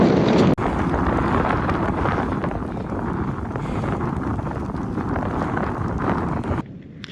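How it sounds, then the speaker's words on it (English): Heavy wind buffeting a microphone on the Dalton Highway, Alaska, a constant loud rumbling roar that persists for several seconds before cutting off abruptly. "it's getting a bit windy now"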